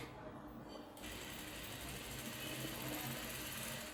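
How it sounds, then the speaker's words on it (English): A sewing machine runs continuously, stitching half-inch seams on princess-dart bustier padding, a steady close mechanical whir that picks up after the first second and holds throughout. "And you're sewing half inches."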